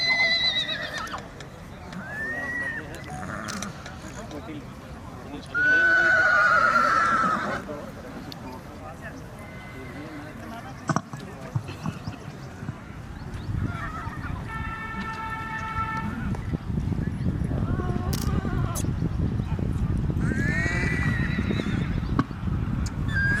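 Marwari horses at a show in Jodhpur whinny several times among clopping hooves, with an announcer speaking over a public address system and crowd noise throughout.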